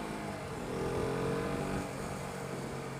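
A KTM RC125 motorcycle rides through traffic, its engine a continuous droning hum under wind rush that rises briefly in the middle and then settles back to a steady level.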